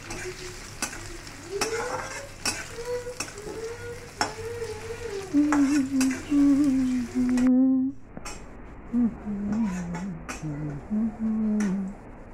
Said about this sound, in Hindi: और साथ में हम प्याज भी इसमें डाल देंगे, और हम इसे गोल्डन ब्राउन होने तक भून लेंगे।